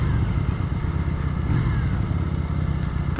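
A Benda Napoleon Bob 250 cruiser motorcycle rides along with a steady, loud engine drone and wind rush, heard close by without any pauses.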